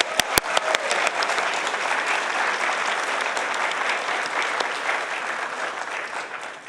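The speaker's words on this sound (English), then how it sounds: "I want to also give a round of applause to all the staff today" Sustained applause from an audience at a community meeting, thanking the staff, opening with a few sharp loud claps and then settling into steady, dense clapping that fills the room throughout.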